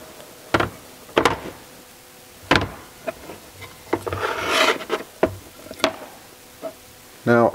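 Metal shift valve from a GM 5L40E transmission in a BMW X3 3.0L being slid into its valve body bore: a series of close, short metallic clicks, taps and scraping rubs, with a longer rasp near the middle and a quick rattle at the end.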